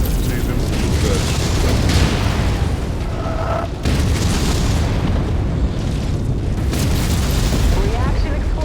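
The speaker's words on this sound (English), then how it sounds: "Reaction explosion." A loud explosion booms in a mech combat video game, heavy rumbling blasts over continuous engine and weapon noise, with a voice talking throughout.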